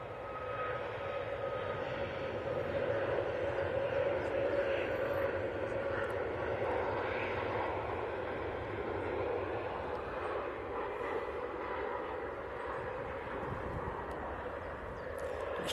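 Ryanair Boeing 737 Max 8 taxiing on a breezy morning, a steady engine hum with a sustained whine holding at moderate level, over wind noise, with no talk.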